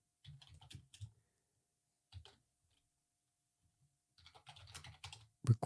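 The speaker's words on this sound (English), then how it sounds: "we need to type in the command pip" Someone types a command on a computer keyboard in a quiet room, with short bursts of soft key clicks separated by pauses and a louder tap at the end.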